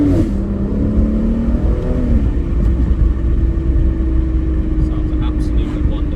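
A 2014 Aston Martin Rapide S 5.9 V12 saloon revs hard, with a loud, deep exhaust note that climbs and then settles into a steady, throaty idle-like drone heard up close.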